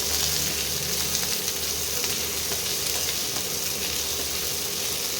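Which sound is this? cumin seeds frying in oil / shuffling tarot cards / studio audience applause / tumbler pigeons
cumin seeds frying in oil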